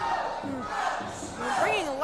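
Crowd at a wrestling show, a dense mass of shouting voices with rising and falling cries and whoops, steady and fairly loud throughout a short stretch.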